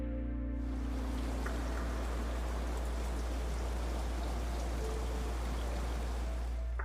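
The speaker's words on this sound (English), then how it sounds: "it's starting to rain in real life" Real rain falls steadily outdoors, a soft, continuous hiss with a few faint drips over a constant low hum.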